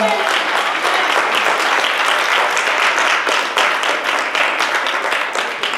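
A congregation claps loudly and continuously in a church service, a dense sustained round of applause that runs throughout.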